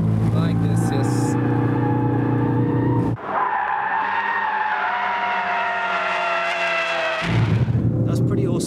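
Ford Focus RS drifting in drift mode with the rear axle assisted, a loud close engine drone with long tire squeals and skidding, the engine note shifting midway.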